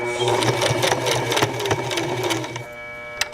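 Sewing machine back stitching and stitching a skirt placket, running as a steady rapid mechanical whir for about two and a half seconds before stopping, with a brief click at the end; a voice speaks over the machine.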